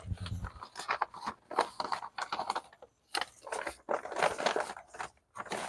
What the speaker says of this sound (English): I'm sure all they can hear right now is paper bag crunching.